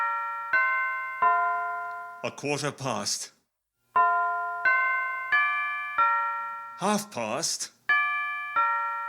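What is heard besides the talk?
clock bell chiming the quarter hours, radio play sound effect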